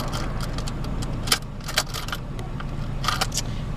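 Loose coins rattle inside a car, sharp metallic jingles bursting out a few times over a steady low road rumble, fairly close and moderately loud.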